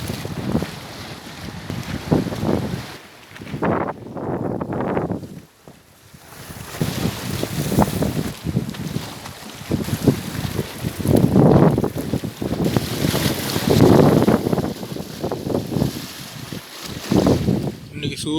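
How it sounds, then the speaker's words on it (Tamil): Strong wind gusts buffet the microphone beside Lake Toba, a loud, continuous roar that swells and dips over several surges, with water lapping faintly beneath. "வேகமான காற்று அடிச்சிட்ருக்கு"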